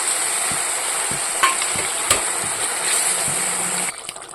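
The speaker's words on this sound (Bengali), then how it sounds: "এদিকে ঝোলটা ফুটে গেছে" Fish curry gravy boiling in a pan after the fish goes in, a steady bubbling sizzle with a few sharp clinks and stirring knocks, fairly close and moderately loud, with no talk.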